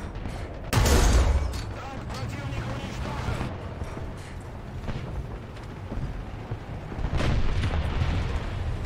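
Tank cannon fire in War Thunder, with a Soviet premium T-III tank in play, where a loud booming shot lands early and a second heavy blast follows later, amid ongoing battle rumble and someone talking.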